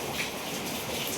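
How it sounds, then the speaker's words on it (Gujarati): Rain falls outside as a steady, even hiss with no breaks or distinct drops, filling the short moment without any voices. "વરસાદ ચાલુ છે."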